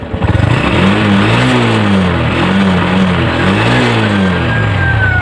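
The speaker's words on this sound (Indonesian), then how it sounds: "Saya tarik gas tetap saja di 1194 95 gitu. Nah, tarik gas lagi." A Honda Revo motorcycle, whose charging system and regulator are being checked after a new battery, revs loudly and close by as the throttle opens, its engine note rising and falling in repeated waves with no talking.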